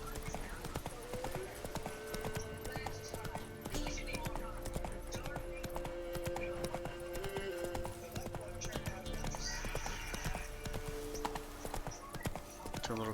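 Geralt's horse Roach galloping in The Witcher 3: Wild Hunt, a steady rhythmic clip-clop of hooves running across country, continuous and fairly close, with faint music and game ambience under it.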